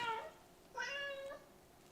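Two recorded cat meows from an Alexa smart speaker's Box of Cats skill, a short one then a longer wavering one after a brief pause, heard alone at moderate loudness through the speaker.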